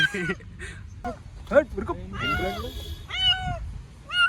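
A stray cat trapped in a well meows in several rising, drawn-out cries, with people talking around it throughout.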